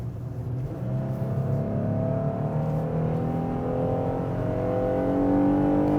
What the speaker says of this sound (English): Here comes our hill climb. This up and just get stuck into the throttle